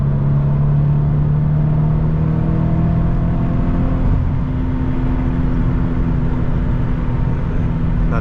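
Toyota GT86 / Scion FR-S manual sports car engine while cornering, heard from inside the cabin as a steady humming drone that shifts pitch partway through, with a low road rumble beneath and no talking.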